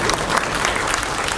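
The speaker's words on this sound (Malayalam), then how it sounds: "കൈയടി മാറ്റി പ്ലീസ്." Dense, steady applause from an audience at a Malayalam film audio launch event fills the whole moment with close, continuous clapping.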